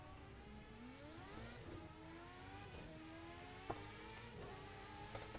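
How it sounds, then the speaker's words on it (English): A high-pitched F1 racing car engine in a racing simulator game revs up and down repeatedly, rising and falling whines layered over a steady background hum. "Oh yes, this is the sound of the F1 cars that I grew up with."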